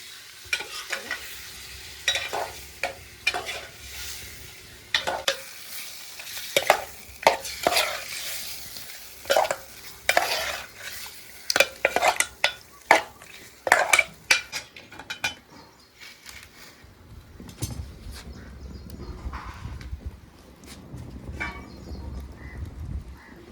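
Wam fish curry stirred in a pot over a wood-fire stove: a spoon scrapes and clinks against the pot in irregular strokes while the curry sizzles softly, then quiet frying near the end, no talk.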